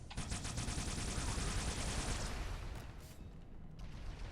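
A brute firing a turret in a Halo video game, a dense continuous rattle of automatic fire for about two seconds, then fading into scattered shots and noise.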